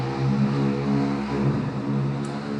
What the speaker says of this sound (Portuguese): Passou uma moto aqui agora, espero que não tenha atrapalhado muito.